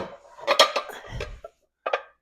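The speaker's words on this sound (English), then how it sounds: "pull down bread pans" Metal bread pans clatter and scrape as they are pulled down from storage, a cluster of close clanks followed by a brief pause and two more sharp metallic knocks.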